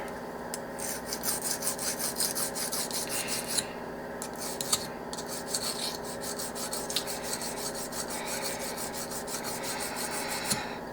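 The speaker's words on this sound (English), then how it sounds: "brand new files work good" A brand new file rasps against a large Washington conch shell in quick, regular back-and-forth strokes, a steady rough scraping rhythm heard up close and alone.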